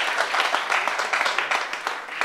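Audience applause fills a live spoken-word stage show, a dense steady patter of many hands clapping at moderate loudness with no voices on top.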